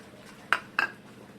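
Cashew and peanut barfi mixture stirred in a pan, with two distinct clinks of a spoon against the metal over a faint background.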